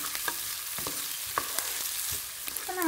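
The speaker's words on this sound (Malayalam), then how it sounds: "അതിനുശേഷം ഒരല്പം ഉപ്പ് ചേർത്തിട്ട് ഒന്ന് നന്നായിട്ടൊന്ന് വഴറ്റിയെടുക്കാം." Onions, green chillies and salt sauté in a pan for soybean curry, giving a continuous crackling sizzle with a few soft stirring taps close by.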